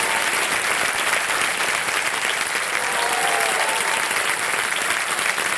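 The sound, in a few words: studio audience applauding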